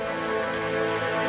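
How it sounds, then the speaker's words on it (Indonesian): Heavy rain pours from dark storm clouds in a steady, dense hiss that is loud and unbroken, with a sustained tonal drone running beneath it and no speech. "Lalu turunlah hujan yang lebat."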